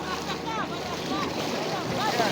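A boat crosses the Moulouya river near its mouth on the Mediterranean, with a steady broadband rush of water and wind across the microphone and a faint background voice over it.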